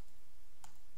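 A single sharp computer mouse click sounds once, brief and close, against a quiet room hiss.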